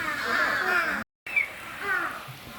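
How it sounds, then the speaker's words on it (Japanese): Crows cawing at the Noboribetsu bear park in Japan, several loud, harsh caws close by with a brief dropout between them, with faint voices in the background. "カラスがすごいね。"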